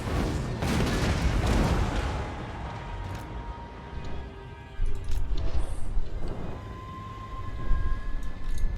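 Flashbang blasts in the Pirates of Sartosa game, a loud burst up front followed by several sharper booms and crackles scattered through the battle, with no talk.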